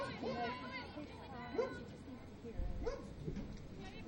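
A dog yips and barks several times amid crowd chatter at a college field hockey game between Earlham and Kenyon, with a commentator talking over the stadium noise.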